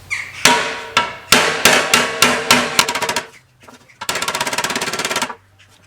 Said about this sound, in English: if you're gonna hammer on it, use a rubber hammer